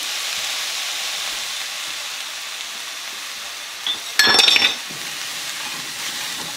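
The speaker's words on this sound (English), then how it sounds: "what I'm going to do is add a little bit more butter" Butter sizzling in a hot pan for a New York strip steak, a steady close frying hiss that flares into a brief louder crackle of spattering fat before settling back.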